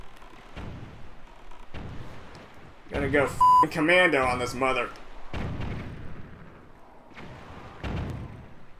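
A cannon fires during a Legend of Zelda: The Wind Waker session, with sharp booming blasts and game beeps at intervals while someone talks loudly over much of it.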